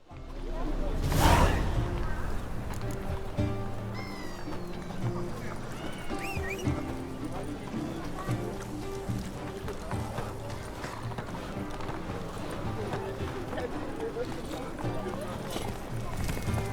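In The Witcher 3: Wild Hunt, Geralt's horse Roach gallops with a steady, rapid clip-clop of hooves from start to finish, under music and ambient game sound, with brief spoken dialogue over it.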